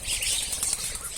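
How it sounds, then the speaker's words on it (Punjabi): Pigeons flap their wings in a brief, close flurry of fluttering that lasts about a second, with no talk. "ਕਬੂਤਰ ਵੀ ਹਨ"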